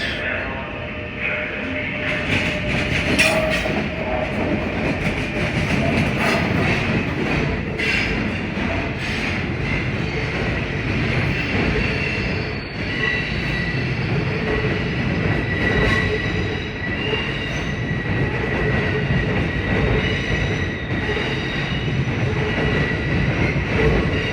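A classic EMD diesel locomotive rumbles through cavernous Secaucus, New Jersey, its engine roaring with steady clattering wheels and metallic squeals throughout, loud and close.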